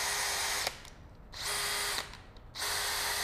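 A DeWalt DCD796N cordless hammer drill whirs at high speed in three loud bursts, each spinning up sharply and cutting off, with short quiet gaps between the runs.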